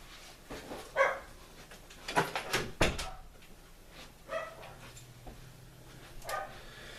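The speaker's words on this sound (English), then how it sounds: "we're going to start over with this because the dogs won't shut up" Dogs bark indoors in short scattered bursts, some loud and close, others fainter, with a brief whimper and a door or cupboard knock mixed in; no one speaks.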